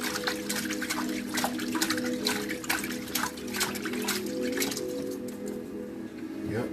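Hot water runs steadily from a tap over Jordan 1 Mid Chrome sneakers during cleaning, a continuous splashing wash with scattered drips and a low hum underneath, close and fairly loud throughout.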